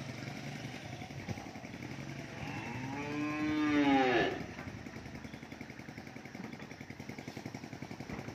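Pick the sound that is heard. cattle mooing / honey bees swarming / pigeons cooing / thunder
cattle mooing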